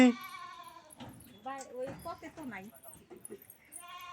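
A goat bleats at the start and again near the end, with a few wavering calls in between, fairly close and moderately loud.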